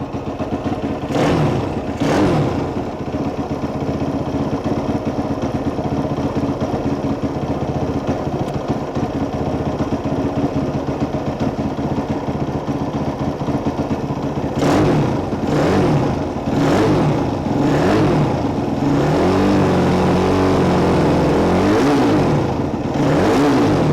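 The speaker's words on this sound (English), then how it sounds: "you see how how quick revving that throttle is" A race-tuned engine snaps up on the throttle in quick, sharp revs: a pair of bursts early on, a steady idle through the middle, then a cluster of rapid blips near the end. Loud and close, with no voices.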